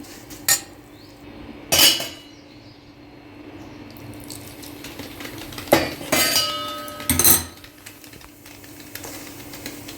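A spoon clinks and scrapes against a vessel while hot oil and salt are mixed for mango pickle, a few sharp metallic knocks separated by quiet stretches.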